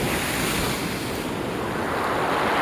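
Aegean sea waves wash in a continuous, close roar of surf mixed with wind rumble against the microphone, loud and unbroken with no voices.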